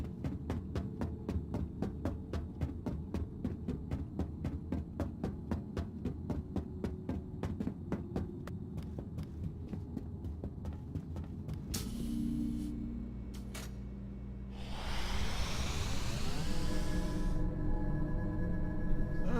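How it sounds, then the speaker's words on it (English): Elevator ride in the Star Citizen Squadron 42 game, a steady low mechanical hum with rhythmic throbbing pulses for most of the ride, then clunks and a rising whir as the car arrives and stops. "Go for a quick elevator ride here."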